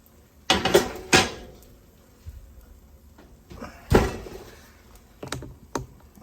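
A baking tray of homemade chicken nuggets is pulled from an oven, with sharp metallic clanks and scrapes of the tray and rack, a few separate knocks followed by quieter handling rattles.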